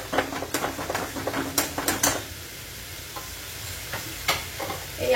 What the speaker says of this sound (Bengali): মাছের মাথাটা দিয়ে একটুখানি ভালো করে কষিয়ে নেব।